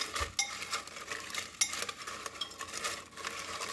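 Tarot or oracle cards being shuffled by hand during a reading, a soft continuous rustling and flicking with irregular small slaps, close and fairly quiet, no voice over it.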